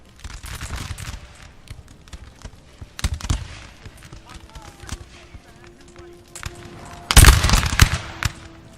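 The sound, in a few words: musket gunfire in Napoleon: Total War video game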